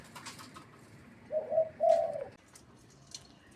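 A caged dove gives a short mid-pitched cooing call, two soft close phrases in quick succession against a quiet outdoor background.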